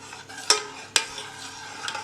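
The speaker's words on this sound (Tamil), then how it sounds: "இதை நம்ம அடுப்பில் வச்சதுலேருந்து கண்டினியூஸாக கலரிட்டே தான் இருக்கணும்" A thick starch paste for homemade fabric conditioner is stirred on the stove, with a few sharp spoon scrapes against the pot over a low simmering hiss.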